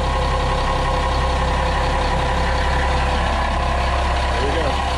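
A steady, loud inboard boat engine, the starboard one of a twin-engine setup, idles while being winterized, with a constant low rumbling drone and a faint rhythmic knock throughout.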